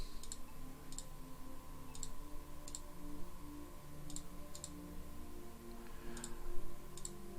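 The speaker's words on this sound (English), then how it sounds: "I was bending down my mic to let you listen to the amazing typing skills of me just mashing buttons" Buttons mashed on a computer keyboard make sparse, irregular clicks heard faintly over a steady low hum.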